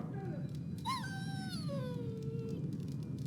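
A dog whimpers and whines in Dragon Age Origins, a rising and falling high-pitched cry lasting about two seconds over a low game background rumble.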